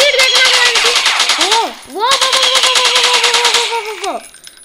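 Rapid automatic gunfire in a video game monster fight, two long sustained bursts of loud, close rattling shots separated by a short break, with tonal sweeps underneath.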